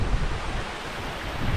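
Crowden Brook, running high after recent rain near Kinder Scout, rushes as a steady broadband wash of water, thickened by gusty wind buffeting the microphone throughout.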